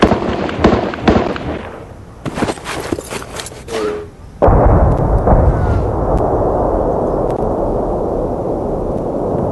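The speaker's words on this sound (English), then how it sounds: "Here's a little bit of artillery." Recorded artillery fire and gunfire played back, a burst of sharp blasts and pops early on, then a loud sustained rumbling barrage of distant explosions that continues to the end.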